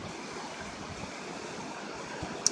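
A raging river at a camp in late December rushes in a steady, unbroken wash, fairly distant and soft, with one brief click near the end.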